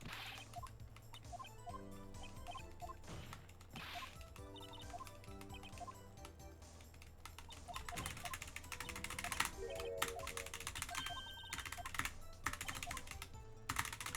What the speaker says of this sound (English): You guys get to see how loud my keyboard is.